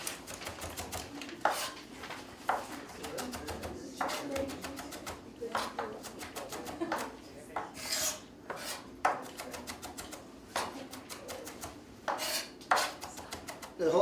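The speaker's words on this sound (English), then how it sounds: "First of all, I'm going to mince some onions up." A knife mincing onions on a cutting board, with rapid, irregular bursts of sharp chopping taps close by, sometimes in quick runs and sometimes spaced out, over low background noise.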